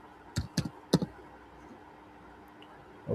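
A few sharp, close keystrokes on a computer keyboard while typing a Google search, clustered in a quick burst near the start, then a quiet pause and one last faint tap.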